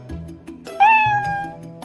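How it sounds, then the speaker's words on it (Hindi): A cat lets out a loud, drawn-out meow, close and clear, after a moment of low background rumble. "बिल्ली जोर से म्याऊं म्याऊं करती है।"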